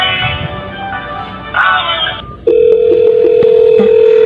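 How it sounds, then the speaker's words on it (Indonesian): A phone line in a ring-all telephony test carries a steady tonal ringback signal with beeping tones, loud and close, after a brief stretch of mixed electronic noise at the start. "Nah, ini dari admin 1 berdering terlebih dahulu ya. Nah, dan ini tetap ada nada sambungnya."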